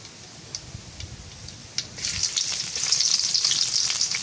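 Chopped onion drops into hot oil already holding cumin seeds, and a steady close sizzle swells and stays loud after a few light taps, with no talking over it.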